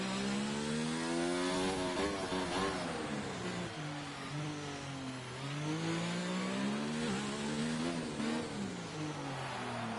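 An F2 race car engine at Monaco in a racing video game whines and rises and falls through the gears, with a smooth, continuous pitch that lifts on throttle and eases back.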